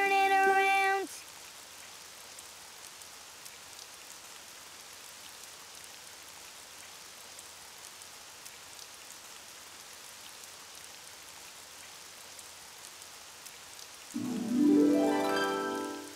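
Rain falling outside, a steady soft hiss of drops that continues evenly for most of the stretch, with louder musical sounds at the start and end.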